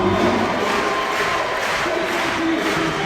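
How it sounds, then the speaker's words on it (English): Spectators at a lead climbing World Cup final in Valence cheer and shout in support of a climber on the wall, a loud, sustained crowd roar filling the venue. "And getting good support here from the crowd."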